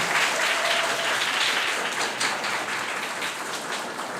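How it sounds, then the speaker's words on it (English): A crowd at a live game development event claps steadily and fairly loudly, with a thick wash of overlapping hands running for the full four seconds. "Give them a clap. Give them another hand."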